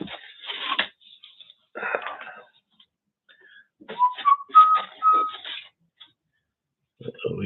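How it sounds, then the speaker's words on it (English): A man whistles a short, wavering tune of a few notes between bursts of his own speech, close and clear in a quiet room while painting abstract acrylics. "Oh, he's whistling."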